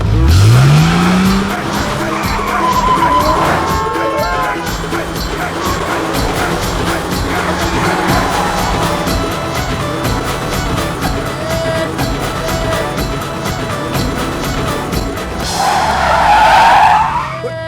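A car in a Bollywood action-comedy scene skids with loud, sustained tire squeals as the engine revs, the screeching rising and falling near and close, with a final squeal near the end.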